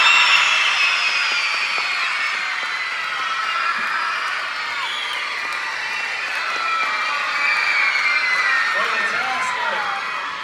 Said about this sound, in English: let's hear for your teachers as loud as you could possibly cheer